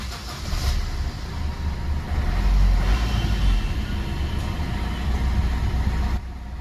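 A Maruti diesel car with high mileage idling after starting, a continuous low clattering rumble with slight swells in loudness, recorded close by outdoors.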